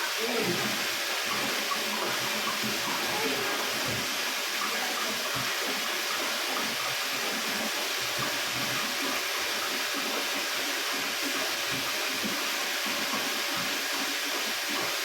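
Water rushes steadily and evenly for the full length during the brine refill stage of a water refilling system's backwash, a constant hiss with no breaks.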